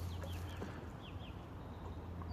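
Ducks gather at a small lake, drawn by food, giving faint clucking calls and a few brief chirps over a low, steady outdoor rumble.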